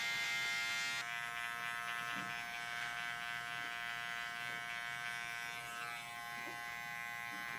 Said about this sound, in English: I'll set my clipper at my guide at the very top here